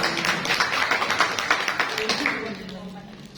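An audience at a school gathering at SMP Negeri 3 Pati claps for a few seconds, in quick, fairly even rhythmic bursts that thin out and stop near the end, with a voice speaking over it.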